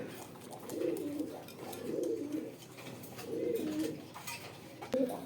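Pigeons of racer, Danish, lakkha and Mumbai breeds coo nearby in Konabari, Gazipur, Dhaka, giving about four soft, rolling coos at an even, unhurried pace.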